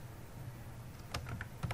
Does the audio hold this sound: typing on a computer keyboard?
yes